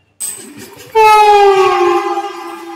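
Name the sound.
express train passing by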